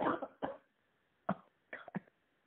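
A person coughs in several short, separate bursts, close and fairly loud, with quiet gaps between the coughs and no talking.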